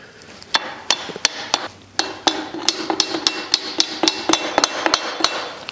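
Sharp metallic strikes ring out in a steady series as a screwdriver is used as a hammer, around twenty hits that speed up toward the end, close and loud with no talking.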